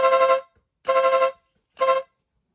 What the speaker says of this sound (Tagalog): Yung rapid horn niya, medyo magaspang.